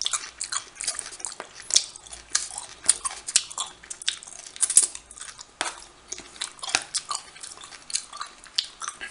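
Close, crisp bites and chewing of cucumber and trout sushi rolls, with soft wet mouth sounds and faint clicks repeating steadily at an even, intimate level, no talking.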